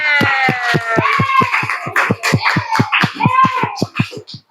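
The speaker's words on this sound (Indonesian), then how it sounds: "Tepuk tangan untuk kelompok 6." Rhythmic, steady clapping from a group of children in a classroom, many quick claps in unison, with children's voices chattering and calling out over it.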